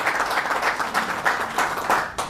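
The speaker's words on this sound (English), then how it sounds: "Another round of applause." Brief round of audience applause at a Zimbabwe high school quiz competition, with steady dense clapping in a hall, loud and continuous for just over two seconds.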